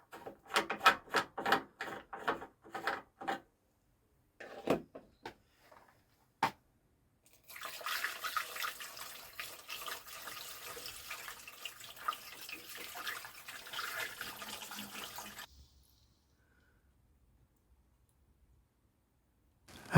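Water fills a Riley 9 Monaco car radiator through its hoses: a rapid run of drips and small clicks, then a steady splashing trickle for several seconds that stops abruptly, leaving quiet.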